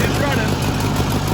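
An abandoned White 2-44 forklift engine running, a steady loud rumbling idle heard up close with no pause.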